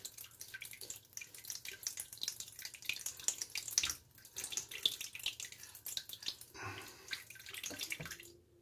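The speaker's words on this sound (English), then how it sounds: "I got in the shower real quick." A shower runs in a bathroom, a close, uneven hiss of splashing water with drips and shifting spray that briefly cuts out before it resumes.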